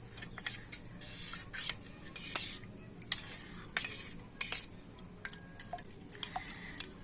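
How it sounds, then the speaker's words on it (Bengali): Semolina is stirred into milk in a bowl with a little salt. A spoon clinks and scrapes against the bowl in quick, irregular strokes, close and fairly quiet, with no talking. "এখন আমি সুজিটা দুধের সাথে ভালো করে মিশিয়ে নেবো"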